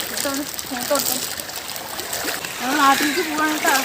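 Water splashing and trickling in a steady wash, with voices talking over it throughout.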